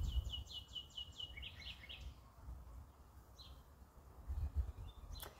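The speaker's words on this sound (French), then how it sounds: "Comment que ça fait du bien d'entendre les oiseaux le matin" Birds sing in the morning with a run of bright, repeated chirping notes near the start, followed by scattered distant calls and a sharp tweet near the end over low ambient rumble.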